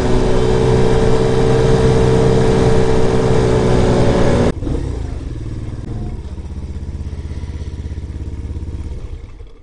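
Hellcat Raptor 125cc Grom-clone motorcycle with a pod air filter, its engine droning loud and steady while riding, then dropping abruptly to a lower, softer idle-like running for the rest.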